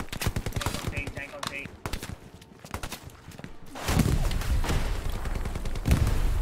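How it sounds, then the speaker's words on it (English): Rapid bursts of rifle and machine-gun fire crackle through a WW2 battle in Hell Let Loose, with sharp nearby shots, then a louder dense stretch of continuous firing and rumble; someone talks over parts of it. "Someone just got shot right here."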